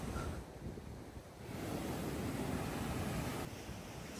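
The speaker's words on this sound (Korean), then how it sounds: "오묘한 날씨와 약간 거센 파도가 치는 해안도로를 걷는 기분이 오묘합니다" Rough sea waves break along a coastal road in Goseong, Gangwon Province, a faint, steady wash of surf mixed with gusts of wind buffeting the microphone, with no voices.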